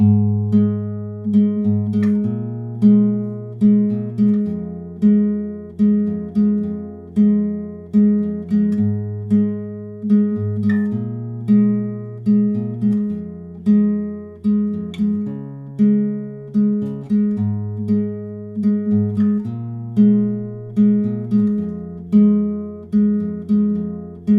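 Steady plucked acoustic guitar picking, rolling arpeggiated notes in a repeating pattern with regular attacks, played solo and close.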